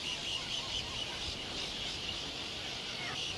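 A dense auklet seabird colony on the Alaska Maritime National Wildlife Refuge fills the air with a continuous wash of calls and wingbeats, steady and loud without a break.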